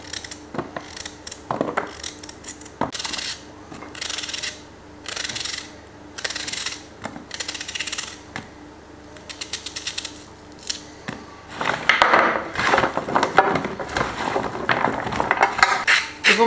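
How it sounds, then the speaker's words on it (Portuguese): A knife chops carrots on a cutting board while preparing an autumn dinner, giving a run of sharp, close knocks in uneven bursts that grow denser and louder toward the end. "Agora vou então cortar as cenouras."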